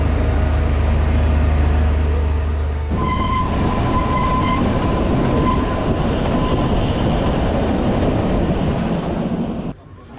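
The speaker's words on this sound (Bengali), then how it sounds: "এই হলো শিবালিক এক্সপ্রেসের ইঞ্জিন।" Shivalik Deluxe Express locomotive at Kalka station, a loud steady engine rumble with a low drone up front, then a sustained whine and hum of the train close by for most of the clip, ending abruptly.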